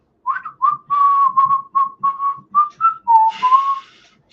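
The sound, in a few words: person whistling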